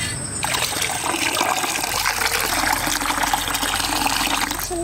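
River water pours steadily into a pot for pani puri in a South Indian village, a continuous close trickling and splashing that runs without a break and with no voices.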